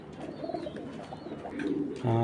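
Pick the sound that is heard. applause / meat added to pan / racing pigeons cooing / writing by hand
racing pigeons cooing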